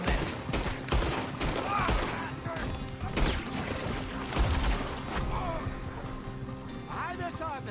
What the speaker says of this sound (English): Well, shoot them then.